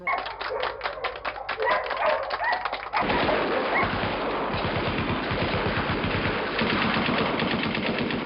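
Low-fidelity video game audio from Plumbers Don't Wear Ties: dogs in an audience bark in a rapid, choppy burst, followed by a continuous flurry of quick yaps and noisy clatter that stays loud to the end.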